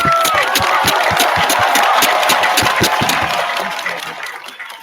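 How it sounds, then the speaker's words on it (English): A stadium crowd at a Special Olympics summer games applauding the coaches, loud rhythmic clapping in unison with cheering mixed in, gradually fading away over the last second or so. "Can we please give all the coaches a big round of applause?"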